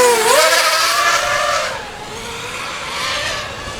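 Small electric motors on a Diatone Tyrant 180 racing drone whine loudly up close, pitch sweeping up and down in quick revs before settling into a steadier whir.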